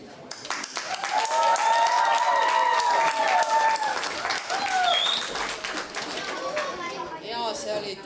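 An audience applauds after a lively, rhythmic stage performance, with dense, sustained clapping and crowd noise filling the whole stretch while voices carry over it.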